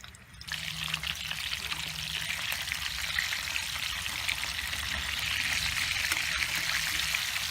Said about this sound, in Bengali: আমার তেলটা মোটামুটি গরম হয়ে গিয়েছে। এখন ইলিশ মাছগুলো আস্তে করে এখানে দিয়ে দিচ্ছি। খুব কড়া করে এটা ভাজবো।